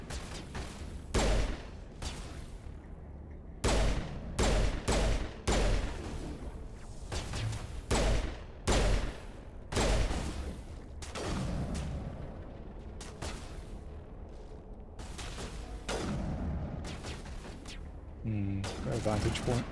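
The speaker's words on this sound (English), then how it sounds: "Oh, rockets." Rocket and weapon fire from an Insanity-difficulty Mass Effect Legendary Edition battle against a Krogan: sharp blasts land in irregular clusters, some close together and some spaced apart, while a voice talks over the action.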